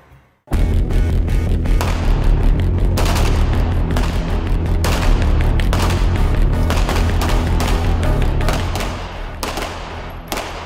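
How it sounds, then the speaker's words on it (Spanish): Rapid, dense bursts of live-fire gunfire at a Mexican Navy advanced training centre crackle almost without pause, loud and close, before easing slightly at the end. "Disparos."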